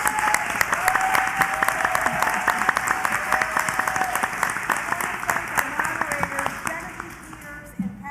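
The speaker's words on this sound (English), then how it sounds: "Let's give Darlene a round of applause." A room full of people at a Michigan District 8 state senate candidates' debate event gives a round of applause: loud, dense, continuous clapping with sharp individual claps, tapering off near the end.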